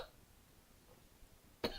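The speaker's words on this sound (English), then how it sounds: "Why do you have to cough every time" A single short cough sounds near the end in a quiet courtroom during a Texas child support hearing, sharp and moderately close after a stretch of low room hush.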